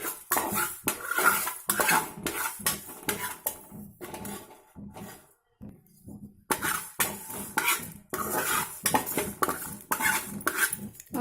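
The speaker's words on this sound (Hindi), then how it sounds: "थोड़ा गरम होने के बाद इसे सिम में रखकर धनिया, जीरा और मेथी ये सबको डालकर भून लीजिए।" Coriander, cumin and fenugreek seeds are dry roasted in a pan over low heat, with a utensil scraping and stirring in quick repeated strokes against the metal and seeds rattling, one brief lull midway, no talk.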